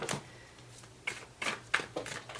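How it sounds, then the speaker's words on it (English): Tarot cards are shuffled in several quick riffling bursts, close and soft, separated by short pauses. "I will put this right here for now and start shuffling."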